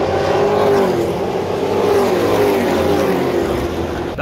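SRX race cars at Berlin Raceway during a Thursday night race, a loud, continuous roar of engines with rising and falling pitch as the cars run past, close and sustained.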